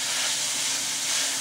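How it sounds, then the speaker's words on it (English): Seasoned meat sizzles in a hot pan for stuffed peppers, a continuous bright hiss held close and loud with no voices over it. "Ooh, I like that sizzling sound."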